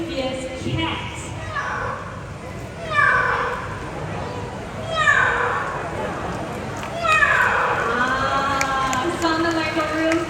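A man imitates a fierce cat with a voice, producing several drawn-out, wavering meows and yowls in bursts over about ten seconds, loud and close, with a longer snarling cry near the end.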